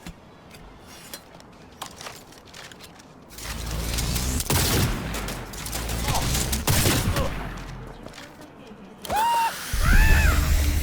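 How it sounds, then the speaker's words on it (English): Gunfire in the video game Cyberpunk 2077, a sniper rifle among sharp shots and loud blasts over a busy game soundscape, with a voice talking at times. "Let's get out the sniper."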